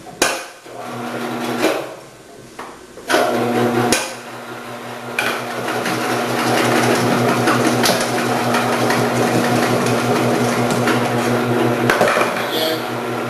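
Multi-purpose vegetable slicing machine cutting cucumbers into thick 8 mm dice, a steady motor hum with rapid rhythmic chopping clatter that starts in bursts and then runs continuously, fairly loud and close.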